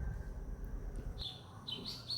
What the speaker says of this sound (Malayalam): രാവിലെ നല്ല കിളികളുടെ ഒക്കെ സൗണ്ട് ഉണ്ട് കേട്ടോ